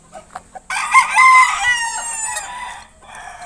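Rooster of the sinibalang breed at a chicken breeder's farm, preceded by a few soft clucks, then one loud, close, drawn-out crow that trails off into quieter clucking.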